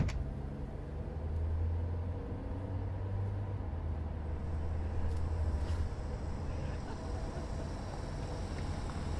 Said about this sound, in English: Someone drives past without stopping.